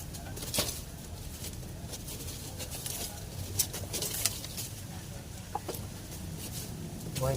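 Fighting roosters cluck and call intermittently in the background over a steady low hum, with a few sharper bird sounds standing out.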